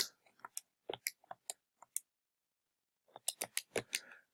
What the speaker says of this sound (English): typing it into my calculator